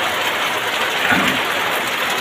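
Rain falling in a rainy-season village setting, a dense, continuous hiss of drops with a brief low rumble partway through and no talking.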